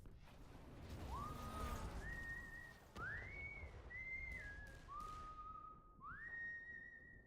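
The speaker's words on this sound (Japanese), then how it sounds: "お前口笛でデスティのテーマ吹いてんじゃん。" Someone whistles the Destiny theme tune, a series of clear held tones that rise and step between pitches over a few seconds, fairly close with a faint background.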